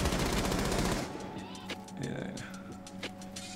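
Bursts of gunfire in the tactical shooter Rainbow Six Siege, starting with a loud, dense volley, then scattered sharper shots and clicks over a steady game hum.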